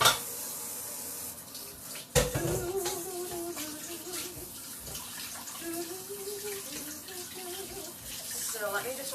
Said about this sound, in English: So I am just rinsing off my beater here so I can go to the next thing.